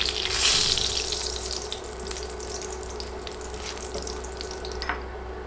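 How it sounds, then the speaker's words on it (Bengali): Dried red chilies, cinnamon pieces and bay leaves fry in hot oil for a chicken curry, giving a steady close sizzle with a brief louder burst at the start and faint stirring scrapes throughout; no one speaks. "তিনটা শুকনা মরিচ আর দুই টুকরা দারচিনি দুই টুকরা তেজপাতা দিয়ে নেড়ে নেড়ে সব কিছু ভেজে নিব"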